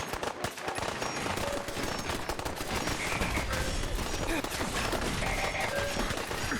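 A gamma gun firing in modded Fallout 4, a dense, continuous crackling barrage of rapid shots at even loudness throughout, with faint tonal game effects layered on top.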